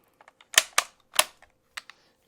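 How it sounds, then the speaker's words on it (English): Empty rifle dry-fired on an empty chamber in a recording session: a few sharp, dry mechanical clicks and snaps close to the mic, with faint handling ticks between them. "pull this trigger on the empty chamber once to see where our meters land."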